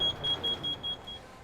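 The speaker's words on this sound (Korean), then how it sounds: "먼저 타고 있는 숯을 텐트 안에 넣고 문을 닫자 잠시 후 일산화탄소 경보음이 울립니다." A carbon monoxide alarm sounding inside a closed tent holding burning charcoal, giving a rapid run of short, shrill, evenly spaced beeps at moderate volume that fade out toward the end.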